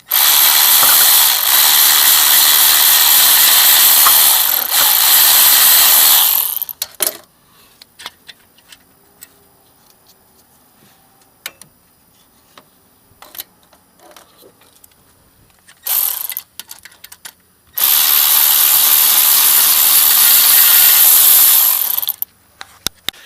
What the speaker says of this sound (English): Start unbolting the alternator.